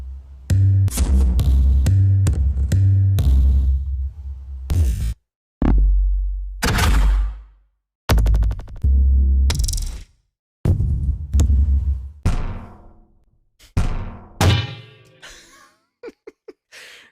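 Library door-kick effects: a series of heavy, booming thuds and slams hit one after another with short silences and ringing decays between them, loud and close, with no voices.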